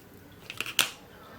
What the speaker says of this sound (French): je vais prendre mon ciseau pour découper un morceau de fil